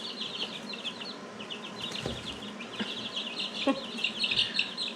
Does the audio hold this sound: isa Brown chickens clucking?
yes